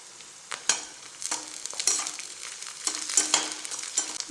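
Coriander leaves and onion sautéing in hot oil in a pan for potato poori masala, a close, steady sizzle broken by several bursts of stirring.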